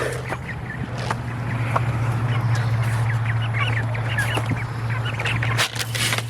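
Ducks and young ducklings gather around food scattered for the flock, a steady chorus of quacks and chatter under a constant low hum, with a few sharper calls and thumps close by.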